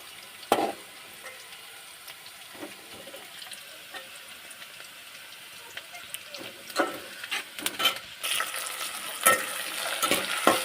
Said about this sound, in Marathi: त्याच्यामध्ये आता टमाटर टाकून घेतले